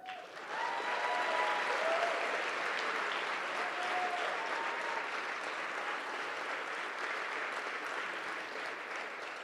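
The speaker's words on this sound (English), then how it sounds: "please join me in a round of applause for these newly commissioned officers" A crowd at a Coast Guard officer commissioning ceremony gives sustained applause for the new officers. The clapping is steady and dense and carries on evenly for about nine seconds with no speech.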